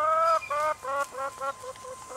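Backyard chickens, a mixed flock of adult and young New Hampshire Reds, Buff Orpingtons and Americanas, cluck in a quick series of close, loud bursts that gradually soften toward the end.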